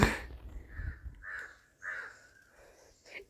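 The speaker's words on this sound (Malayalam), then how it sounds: "കാക്ക ഒരേ വിരുന്ന് വിളിയാണ് കേട്ടോ" Crow cawing nearby outdoors, several harsh caws in quick succession over about three seconds, with short gaps between calls.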